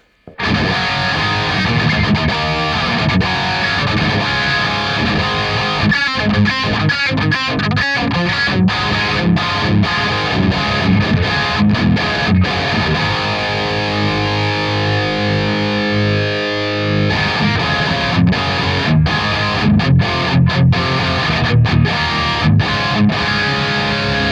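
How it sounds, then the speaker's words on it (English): Distorted electric guitar through only a boost pedal into a Nano Cortex capture of a Nitro amp, playing continuously, loud and close, with strummed chords and short choppy stops along the way. "And let's try just the boost"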